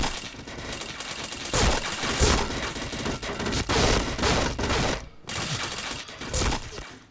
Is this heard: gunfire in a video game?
yes